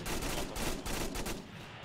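Sustained machine gun fire in the military video game Arma, loud dense bursts of rapid shots that run continuously and ease slightly near the end.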